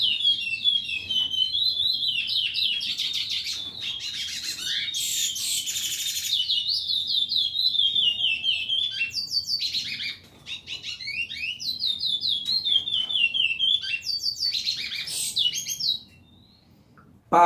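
A male chestnut-bellied seed finch (curió) sings to females, a long run of loud, close, whistled phrases and chirps with brief pauses and no talk.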